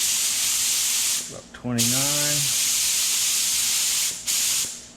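An air hose hisses loudly and steadily while the pressure is set on a paint spray gun for a hotrod black paint job. A brief spoken word and a short pause break the hiss.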